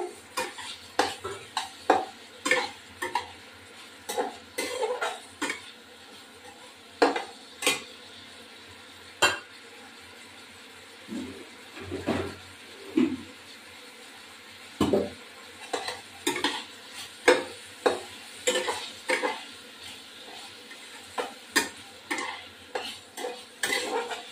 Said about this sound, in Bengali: এবার আমি কপিগুলো দিয়ে দেবো, এই কপিগুলো, ফুলকপিগুলো দিয়ে দেবো